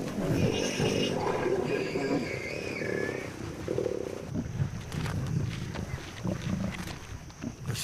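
A pride of lions feasting at a warthog burrow at night, heard as loud, continuous growling, snarling and rumbling from several animals close by, with scuffling and tearing sounds throughout.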